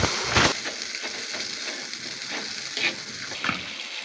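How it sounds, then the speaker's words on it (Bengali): Ground cumin, mustard and garlic paste fry in oil in a wok, sizzling steadily at close range while a spoon stirs and scrapes them in a few distinct strokes. "মশলাগুলো নেড়ে চেড়ে নিচ্ছি।"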